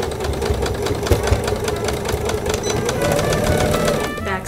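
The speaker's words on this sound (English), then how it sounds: "Just sew that straight line an eighth of an inch in." Close, loud sewing machine running steadily as it stitches a straight line through hemp canvas for a pencil case, with a continuous rapid mechanical chatter that drops off at the very end.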